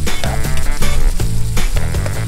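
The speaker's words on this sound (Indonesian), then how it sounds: "Goreng dulu bawangnya." Onions frying in a pan in an outdoor holiday kitchen in East Java, a steady close sizzle running under background music with no speech.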